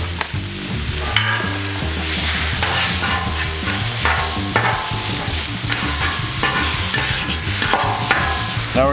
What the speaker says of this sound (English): now we're gonna move these onions